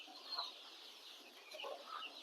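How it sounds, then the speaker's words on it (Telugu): Free-ranging native country chickens clucking on a farm, soft scattered clucks and murmurs at moderate distance, faint and continuous over quiet background. "సో అలాగే కోళ్ళు అయితే ఎక్కడ పోతే అక్కడే ఉన్నాయి"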